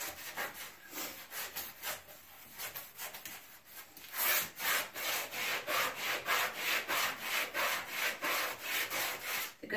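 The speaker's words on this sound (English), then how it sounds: "Good thing about the bathroom scrub mitt is, like I said, it's got little nylon fibers. It's scrubby on one side." A Norwex bathroom scrub mitt with nylon fibres scrubs shower walls in rapid back-and-forth rubbing strokes, close and rhythmic, growing louder and more vigorous halfway through.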